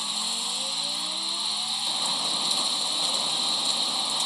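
A rear-wheel-drive 2010 Nissan Tsuru Sentra with a drift tune, driven in Forza Horizon 5, holds a loud, steady high-revving engine drone whose pitch climbs in the opening seconds and then stays sustained without talk.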